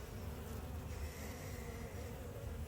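Honeybees swarm and buzz in a dense, continuous drone around an opened hive, close and steady throughout with no pauses or voices.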